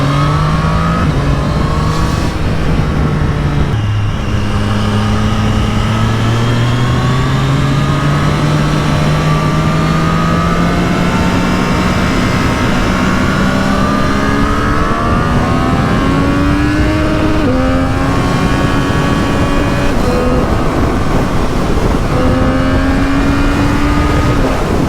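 A 2024 Triumph Street Triple R motorcycle with a 120-horsepower engine pulls hard and loud for a long stretch, its pitch rising and dropping through several gear changes at close range.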